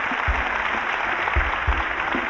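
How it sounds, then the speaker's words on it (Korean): A conference audience applauds to welcome an eleven-year-old child guest onstage at a 2013 Seoul Digital Forum talk, producing a steady wash of clapping from a large crowd that fills the whole moment. "박수로 맞아주시기 바랍니다"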